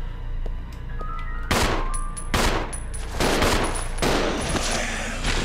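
In Resident Evil 0, inside the Umbrella Research Center, rapid bursts of gunfire erupt in close, loud volleys, with metallic pings and clangs mixed among the shots.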